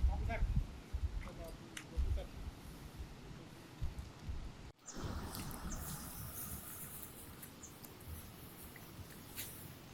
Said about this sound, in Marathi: त्यात पण हा पाऊस येत जात होता.